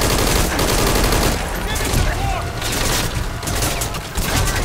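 Heavy, overlapping gunfire in Metal Gear Solid V near an old prison area, a dense barrage of rapid shots from several weapons filling the whole stretch with little letup.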